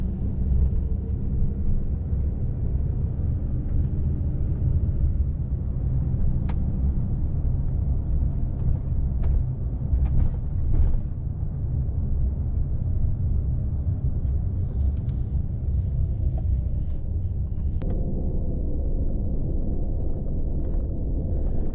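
A car rolls through downtown Kingston, New York, its steady low engine and road rumble filling the cabin throughout, close and continuous with no talk.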